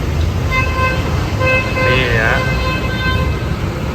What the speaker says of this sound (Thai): ได้ยินเสียงแตรรถบ้างนะ